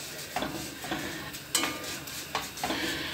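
Vermicelli fry in a pan until golden, giving a soft, faint sizzle broken by several scraping stirs at uneven intervals.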